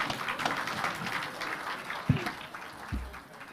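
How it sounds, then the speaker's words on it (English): A parliamentary group meeting audience gives a diffuse, moderately distant round of applause for party leaders, with a steady crackle of many hands and a couple of low thumps. "let us give the two party leaders a hand of applause"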